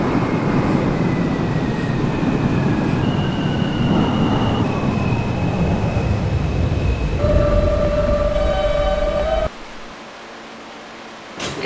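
Simulated R160 subway train running as an A local toward Euclid Avenue, with a steady loud rolling rumble, a long descending whine and squealing tones as it slows, then a sudden drop to quiet near the end.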